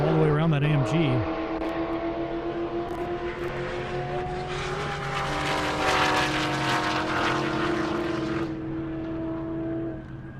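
A Corvette Z06 drag car rated at 6,000 horsepower roars down an airport strip at a half-mile drag event, its engine note climbing in pitch as it pulls away, loud and sustained with a voice talking over it.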